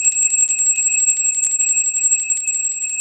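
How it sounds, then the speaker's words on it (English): A small bell rung to cleanse energy gives a bright, high, sustained ringing with a rapid shimmering pulse, as if shaken continuously, loud and close with no voices. "let's ring that bell. Cleanse out that energy."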